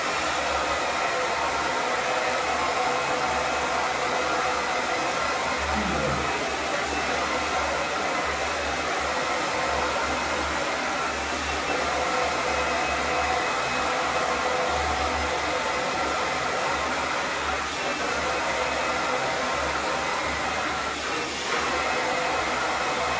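A hair dryer blows steadily on hair after a Burix One thermal treatment is rinsed out, a loud continuous close whoosh with a high whine, unbroken for over twenty seconds with no voices.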